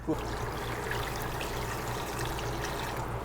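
Hot water streams steadily into a cooking pot for spicy instant noodles, a continuous close trickle and pour that runs evenly throughout without pause.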